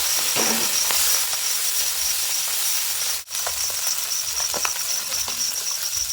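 Small mixed fish frying in oil in a home kitchen give off a steady, close, broadband sizzle that runs unbroken except for one brief dropout near the middle, with faint scattered crackles and no voices.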